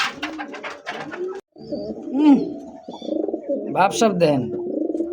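Young pigeons coo in a dealer's loft with repeated throaty, rolling calls, close and loud, while someone talks over them.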